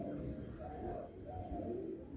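Pigeons at a sale coo in close, low throaty bursts, a few rolling calls rising and falling across a couple of seconds with no voices over them.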